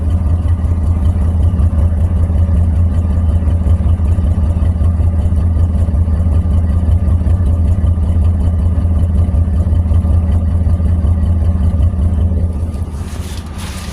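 A 1999 Chevy S-10 engine running steadily with a new exhaust tip, a loud, deep, even rumble held close up for a long stretch before easing off slightly at the end.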